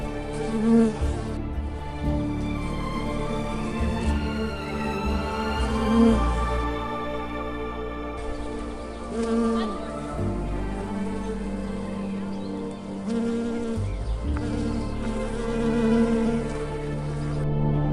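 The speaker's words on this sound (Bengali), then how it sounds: "মৌমাছি এখানে ফুলে ফুলে ঘুরে বেড়ায়।" Steady bee buzzing close by among azalea flowers in a garden at Jhandi, Kalimpong, rising and falling in pitch as it drifts, continuing throughout with no talking.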